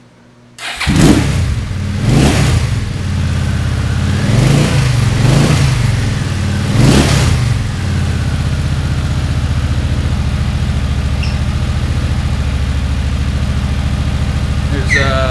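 Suzuki Marauder VZ800 motorcycle engine after a Stage 2 rejet cranks, fires and catches, blips loud through several revs, then settles into a steady, close, rumbling idle.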